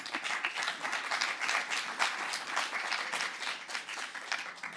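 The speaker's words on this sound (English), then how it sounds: "Pausing for applause." Applause from an audience at a live interview event fills the room as a dense, continuous wash of many clapping hands, steady and moderately loud, with no talk over it.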